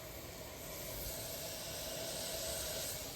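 Steak sizzles in a pan with a faint, steady hiss that holds evenly throughout, with no other sounds.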